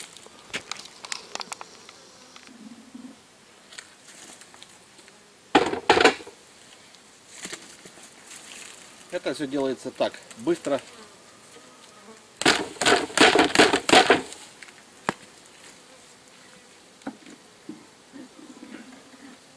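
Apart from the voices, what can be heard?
honey bees buzzing while shaken into a bag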